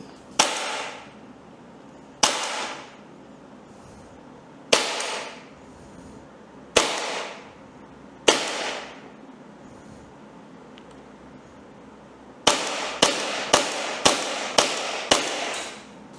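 A Raptor SR-2M airsoft replica firing 0.32 g BBs: five sharp, loud shots spaced about two seconds apart, then a quick string of six rapid shots, each with a short ringing tail.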